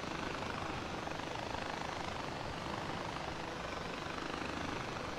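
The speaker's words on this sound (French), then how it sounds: "Ah, encore un autre petit avion." A small airplane in the video game Far Cry 4, a loud, steady engine drone with broadband roar that holds evenly throughout without breaks, close and dominant with no talk over it.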